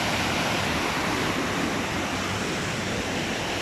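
High river water rushing under a small countryside footbridge near Medellin, Colombia, a dense, steady roar of flowing water with no pauses.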